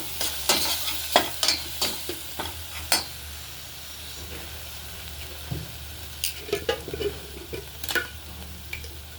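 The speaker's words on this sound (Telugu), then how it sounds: "ఇప్పుడు అల్లం వెల్లుల్లి పేస్ట్ వేసినాక ఒక స్పూన్ ఇది కూడా మనం వేసుకొని ఫ్రై చేసుకోవాలి" Ginger garlic paste fries in a pan with a low, steady sizzle, and a spoon scrapes and taps the pan in sharp, irregular clicks up close.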